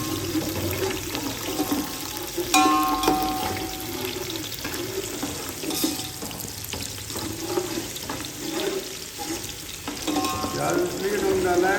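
A small onion goes into a chicken dum biryani pot; oil sizzles and fries steadily with stirring scrapes and watery clatter, moderately close, no talk.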